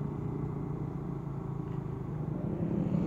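Suzuki GSX-R150 motorcycle engine held at high revs on the road, a steady, moderately loud droning hum with a dense low rumble and no break over the few seconds.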